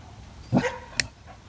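A dog, a female pet near a doghouse, lets out a single short bark at moderate distance, followed by a faint yip, against quiet indoor background.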